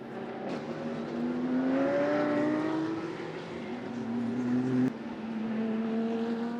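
GT race cars at the Hankook 12-hour endurance race at Estoril, 2023, including a silver Mercedes GT4, roar past with engine notes that rise and fall through gear changes, loud and continuous with no talk over them.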